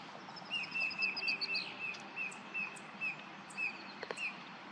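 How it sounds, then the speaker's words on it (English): A small bird, not an osprey, calls near an osprey nest, a faint series of evenly spaced high chirps repeating about twice a second over soft outdoor background noise. "That's a different bird making those sounds."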